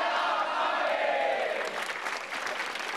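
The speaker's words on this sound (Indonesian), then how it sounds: "Ya tepuk tangan dulu buat Iwel" A studio audience applauds and cheers for comedian Iwel at a televised Indonesian stand-up comedy battle, a steady, loud wash of clapping and crowd noise lasting throughout without a break.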